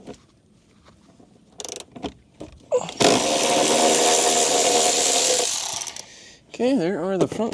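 A power tool, like an impact wrench, spins out the front seat bolts of a Mazda Miata, one loud sustained whirring run of about two and a half seconds after clicks and handling noises, with a voice briefly heard at the end.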